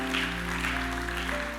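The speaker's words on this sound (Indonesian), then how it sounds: "Senang gak saudaraku, tepuk tangan bagi dia." Church congregation clapping during a Sunday service, a dense continuous wash of applause over sustained music.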